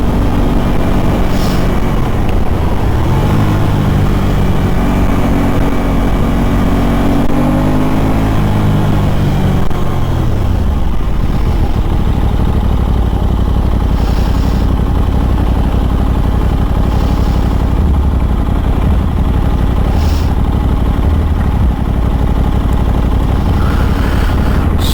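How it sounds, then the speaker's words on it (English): A 2023 Aprilia RS660 street bike engine pulls hard while racing a small BMW car, a continuous loud revving roar with rising and falling pitch sweeps early on, then a steady drone. "Little Beamer wants to race the street bike."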